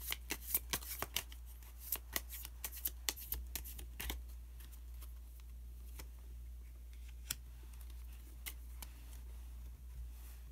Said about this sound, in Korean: 그러면은 카드 한 장을 더 뽑고 이야기 계속 나누도록 하겠습니다.